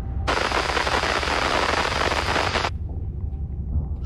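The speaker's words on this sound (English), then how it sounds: "The turrets are attacking you." A sustained burst of rapid automatic turret gunfire in the video game Warhammer 40,000: Inquisitor – Martyr rattles loudly for a couple of seconds, then cuts off abruptly, leaving a low rumble behind.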